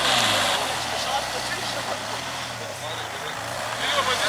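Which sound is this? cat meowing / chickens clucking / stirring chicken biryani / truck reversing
truck reversing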